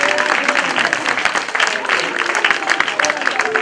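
Applause and cheering from a crowd at a church gathering in a village in Côte d'Ivoire, loud and continuous with sharp claps, mixed with voices.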